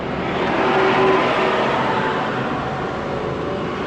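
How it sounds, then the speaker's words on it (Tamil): Loaded lorry labouring up a forest hill road in Hasanur Forest, its engine droning loud and steady at close range, straining throughout with no speech. "இங்கே பாருங்கள் லோடு வண்டி எப்படி ஏறுது பாருங்கள்"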